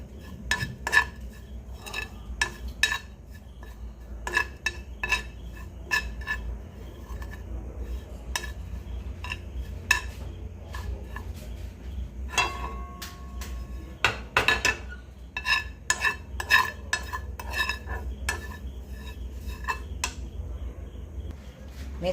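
A utensil scrapes and clinks against a kadai pan while fenugreek leaves fry, with irregular sharp taps through a quiet kitchen and faint chirping in the background.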